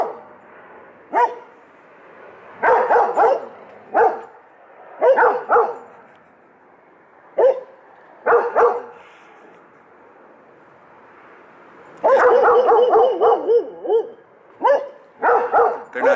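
Several dogs bark in short bursts and clusters, loud and close, with quiet gaps between volleys and a longer run of rapid barking near the end.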